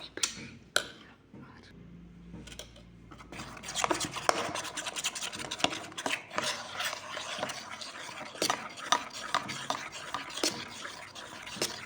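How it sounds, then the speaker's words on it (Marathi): Dhokla batter with salt worked by hand in a bowl: close, continuous wet squelching and rubbing strokes with scraping textures, steady and moderately quiet throughout. "चम्मचने गुठळ्या निघाल्या नाही म्हणून मी हाताने मिक्स करून घेतलं."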